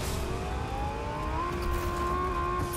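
Cars driving in a video game, a steady engine drone with a rising whine throughout, continuous and moderately loud with no talk.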